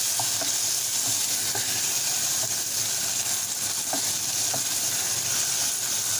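Tomatoes sizzle in a frying pan while munggo with tinapa is being cooked, giving a constant close hiss with a few faint clicks and light stirs, and no voices.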